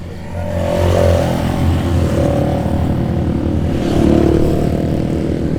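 Loud motorbike engines drone steadily nearby on the way to Mount Bromo's crater, rising as a motorbike passes close around the middle and again near the end, with no talking.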